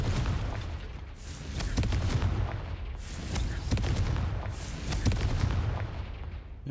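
Fiery Confringo spell blasts burst in the game Hogwarts Legacy, a run of loud booming impacts and crackling bursts in quick succession over a rumbling low-end bed.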